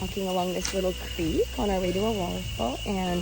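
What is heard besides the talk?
chicharra (cicada) singing in Costa Rican forest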